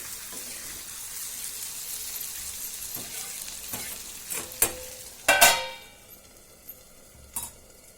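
Stuffed ridge gourd masala frying in oil as it is stirred from the bottom up, giving a soft ongoing sizzle with a few sharper scraping knocks and clatters near the end, and no talking.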